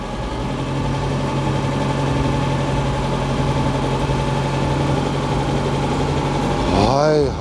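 Citroën DS21 engine idling with a steady, close mechanical hum while the hydraulic suspension raises the car to its highest position, with people talking over it and a brief swelling whine near the end.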